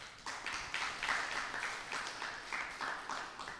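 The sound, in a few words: audience applause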